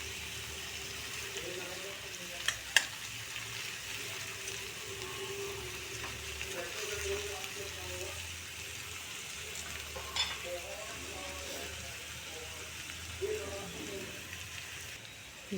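Onion sautés in a pan with a soft, continuous sizzle, punctuated by a few sharp clinks and scrapes from stirring, fairly quiet and close, with no talking.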